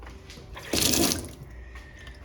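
A water tap in a small kitchen area opens for a brief surge of running water that rises to a louder gush for about half a second, then drops back to a faint trickle.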